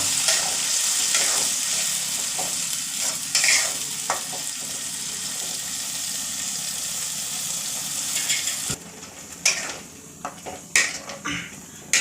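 Masala paste frying on high flame for a crab curry, with a loud continuous sizzle and spoon scraping through the pan, then clinks and knocks of utensils against the pot near the end, no talk.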